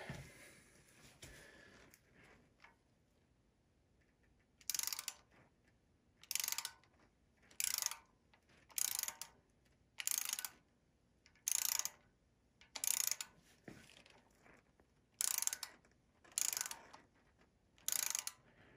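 A ratchet loosens the saddle gib screws on a machine, making about ten short, crisp clicking bursts at a steady rhythm, close and distinct against a quiet background.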